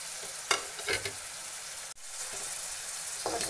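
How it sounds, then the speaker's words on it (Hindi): Powdered spices frying in a pan (turmeric, Kashmiri chilli, coriander powder, salt, garam masala and cumin) for an egg masala, giving a steady close sizzle broken by a few sharp scraping stirs, with no talking. "और मसालों को बिल्कुल हम अच्छे से भून लेंगे, कम से कम 5 से 7 मिनट"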